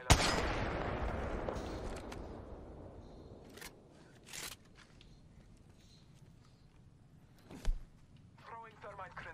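Bursts of gunfire in a video-game battle ring out in scattered sharp cracks, one heavy blast near the start trailing off into a lingering rumble, with a few louder shots later and brief voice chatter near the end.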